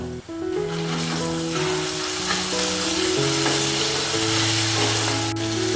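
Ginger garlic paste fries in hot oil in a pan, a dense, close, continuous sizzle over a steady low hum, without any talking.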